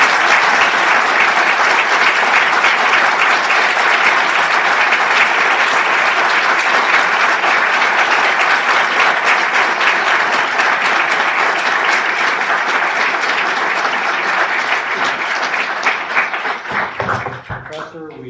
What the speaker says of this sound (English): I think some applause would be appropriate.